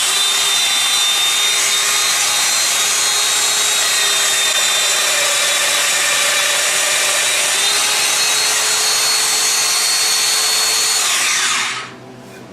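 A Domino joiner runs continuously while cutting a mortise in wood, a loud, steady high-pitched motor whine with grinding cutter noise that holds evenly for about twelve seconds, then spins down abruptly at the end.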